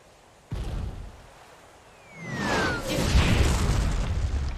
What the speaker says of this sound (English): Cannon fire? Where's it coming from?